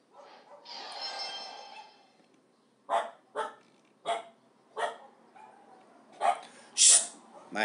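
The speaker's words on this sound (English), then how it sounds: "My dog barks." A pet dog barks repeatedly, with around seven sharp, fairly close barks in an irregular rhythm following a softer stretch of muffled sound, heard during golf gameplay.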